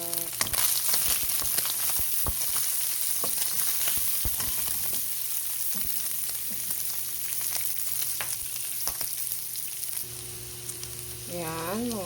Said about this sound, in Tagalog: So, lagay na po natin sibuyas.